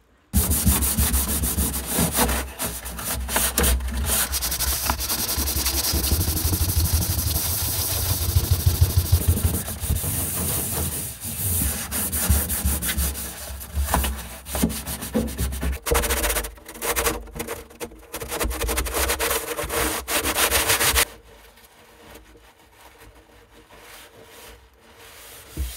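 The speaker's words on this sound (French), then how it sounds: "je vais essayer de poncer un peu dans tous les cas" Power sanding of wooden floorboards in a Lotus car produces a loud, continuous abrasive rubbing whir with shifting intensity for about twenty seconds, then stops, leaving a quiet background.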